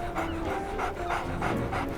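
A dog pants in steady, fast rhythmic breaths, close and continuous, over a dull background hum, with no talking.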